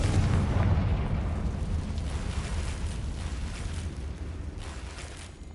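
Fiery Confringo spell blast in a Harry Potter wizarding video game, heard as a sustained loud, low rumbling boom that swells at the start and slowly tails off over several seconds.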